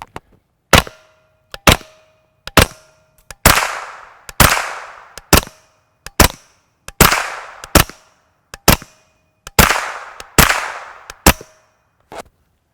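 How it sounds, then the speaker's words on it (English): A CZ Scorpion Evo 3 SBR with a JK Armament pistol kit fires 9mm subsonic and supersonic rounds, about a dozen sharp, loud single shots at irregular intervals. Some shots have a bright cracking tail and others sound duller. "We got the CZ Scorpion Evo 3 SBR JK Armament pistol kit on here."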